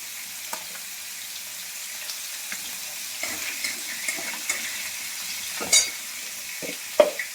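Panch phoron spices and a green chilli hit hot oil in a wok, giving a steady close sizzle with light stirring scrapes and a few sharper pops, and no voices.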